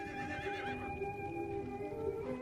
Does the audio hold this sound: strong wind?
no